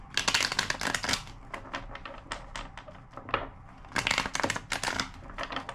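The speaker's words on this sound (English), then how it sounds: "2 more shuffles." Rapid bursts of riffling and flicking as a deck of cards is shuffled several times, close and crisp, with short pauses between shuffles.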